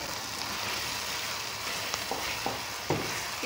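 Chicken fries in a pan with green chili, a close, steady sizzle with a few light scraping and stirring knocks near the end, no voices heard.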